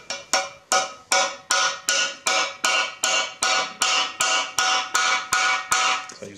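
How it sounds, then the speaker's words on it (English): Repeated metal hammer strikes driving a press-fit part flush into a Miata 1.8L engine block ring out at a steady, even pace, about a dozen sharp blows, each with a brief ringing decay, close and loud. "I use a hammer to get it flush"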